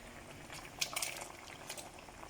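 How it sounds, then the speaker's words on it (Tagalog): Kare-kare with beef meat and beef skin boiling in a pot, a faint, soft bubbling and simmer with a few light clinks around the middle, fairly quiet and alone without talk. "Ito po, niluluto na po natin yung ating kare-kare"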